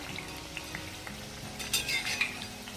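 Leftover chapati frying crisp in hot oil gives a quiet, steady sizzle throughout, with a few light clinks of a utensil near the end.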